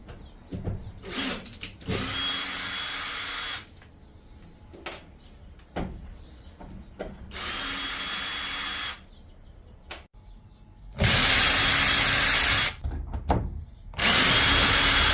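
A power drill backs screws out of old plywood on a camper being converted, several loud, whining bursts of a few seconds each, separated by clicks, knocks and handling noise, close and with no talk.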